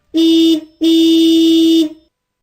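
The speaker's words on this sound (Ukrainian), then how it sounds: "або сигналить машина." A car horn honks twice, a short blast followed by a longer sustained one, loud and close.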